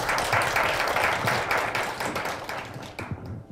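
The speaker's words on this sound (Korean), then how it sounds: "박수로 맞이해 주시기 바랍니다." An audience at a Korea University graduate school admissions event claps to welcome a speaker, a lively burst of many hands that fades out over a few seconds.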